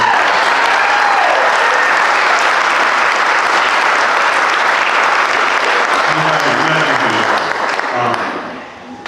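An audience applauds a couple celebrating their 25th wedding anniversary, giving steady, sustained clapping that fills the room and fades slightly at the end.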